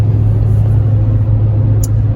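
A car engine runs with a steady low rumble, holding a constant drone throughout without a clear rise in pitch.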